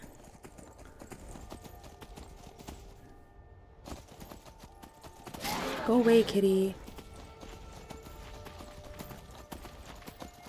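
Horse hooves clop steadily during a ride through a Skyrim landscape, with a voice speaking briefly over a louder burst of footfalls in the middle.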